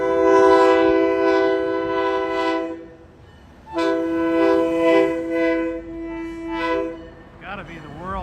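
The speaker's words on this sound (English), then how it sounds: "Gotta be the world's slowest train." A very slow train's horn sounds in long, sustained blasts with a pause between them near Manzanita and Rockaway Beach on the Oregon coast, followed by squealing rail noise; the train is close and loud.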